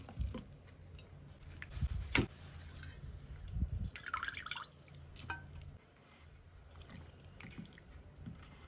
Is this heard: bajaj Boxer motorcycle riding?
no